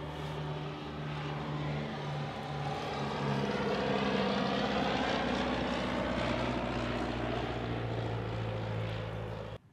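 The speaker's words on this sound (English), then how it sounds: "Before another plane comes by, I'll cut this short." A propeller airplane drones steadily overhead a ranch, its engine loud and continuous, swelling slightly in the middle before cutting off at the end.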